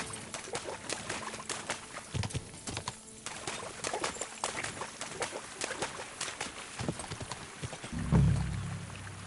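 Rhythmic hoof clip-clops from a horse moving at a steady walk in Kingdom Come: Deliverance II, with ambient game noise around them and a heavier thump near the end.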